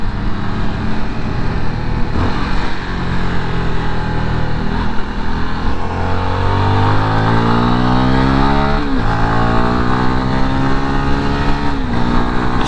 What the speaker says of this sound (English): There's nothing like ripping through all the gears on a slow ass bike